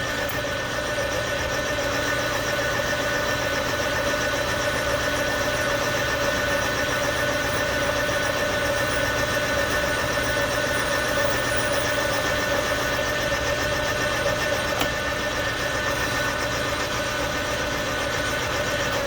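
A metal lathe takes a light cut on a racing lawnmower or tractor pulley, giving a steady, loud, continuous machining drone with motor hum and vibration that holds unchanged throughout, with no talking.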